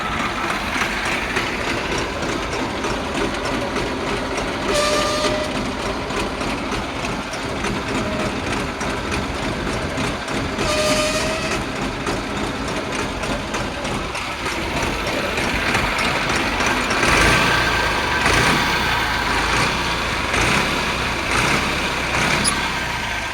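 A New Holland 3230 tractor idles steadily in a village yard while its hydraulics are worked, a continuous engine drone with a couple of brief whining surges and a rougher rising strain near the end, close and without speech.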